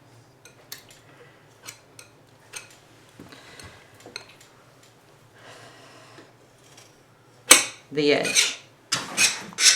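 A palette knife scrapes and spreads oil paint on a canvas, light scattered scratches and taps at first, then louder, longer rasping strokes near the end, with a voice talking briefly.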